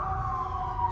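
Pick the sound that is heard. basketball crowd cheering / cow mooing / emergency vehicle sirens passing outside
emergency vehicle sirens passing outside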